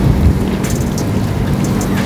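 Rain falls at Jalpaiguri Road railway station in the early afternoon, a loud steady wash of drops with a low rumbling undertone and scattered sharper splashes, no voices heard.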